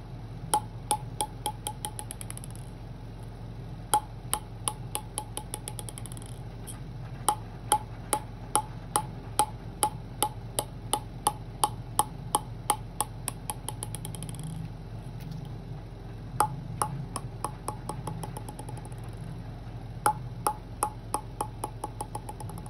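Table tennis ball bouncing on a newly set up Yinhe N5S racket, crisp bright ticks repeating in steady runs with short pauses, close and clear over a quiet room hum.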